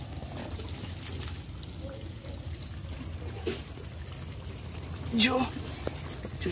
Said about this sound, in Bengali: জলটা ফেলে দাও।